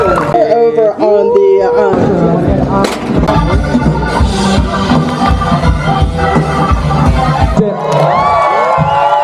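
Outdoor crowd at a grassroots nature festival cheering, whooping and applauding the stage and sound crews, loud and sustained with shouts and voices mixed throughout the noisy roar.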